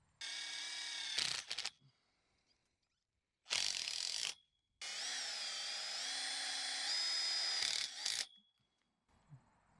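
A power driver runs self-tapping screws into a DIY roller trellis hoop frame in three whirring bursts of varying length, rising in pitch under load, with short gaps of quiet between them.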